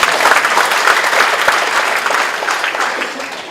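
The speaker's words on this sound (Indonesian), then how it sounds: "tepuk tangan buat beliau" Audience applause for an honoured host at a lively comedy event, dense steady clapping from a large crowd that stays loud throughout and eases slightly toward the end.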